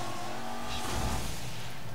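A car in the video game Burnout Paradise reversing, a steady engine roar with a short surge and tyre noise in the middle.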